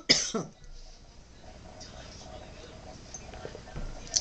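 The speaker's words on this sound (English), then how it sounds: "I might cough here and there" A man coughs sharply once at close range, followed by a quiet stretch of room noise and small clicks, with a faint throat sound near the end.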